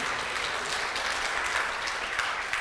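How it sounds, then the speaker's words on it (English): An audience at a Bible teaching session claps in a steady round of applause, the sound evenly spread and continuous with no talk over it. "Give her a round of applause."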